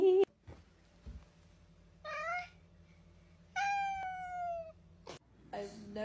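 A cat meows twice in drawn-out, wavering cries with shorter calls around them, close and clear over a quiet background.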